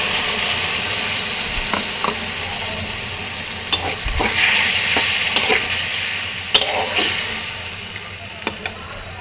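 Shrimp fry in a spice mixture in a pan with a continuous close sizzle, broken by occasional stirring scrapes and clicks from a utensil.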